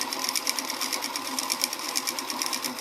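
A sewing machine runs a long basting stitch for a fabric ruffle, about 4 mm per stitch, giving a steady close mechanical chatter of rapid needle strokes with no talk over it.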